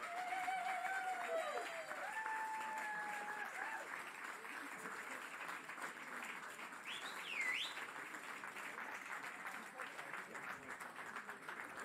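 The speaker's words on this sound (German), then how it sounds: "Und ihr dürft gerne klatschen" An audience at a music contest final claps steadily throughout, a soft, distant patter of many hands, with scattered whistles and whoops rising above it.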